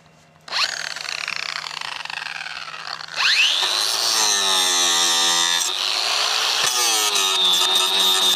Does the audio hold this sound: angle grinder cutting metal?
yes